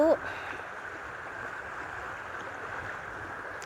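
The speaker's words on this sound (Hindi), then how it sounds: "आपको यही नदी मैं दिखाना चाहती हूँ।" A village river flows with a soft, steady rushing wash that stays faint and even, after a brief voice at the very start.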